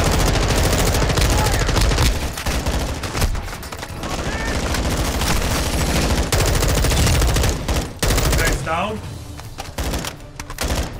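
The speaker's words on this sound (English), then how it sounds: "someone's shooting at us" Rapid bursts of automatic gunfire from Call of Duty Warzone 2.0 DMZ crackle loud and near in repeated volleys, mixed with game effects and overlapping voices of players talking.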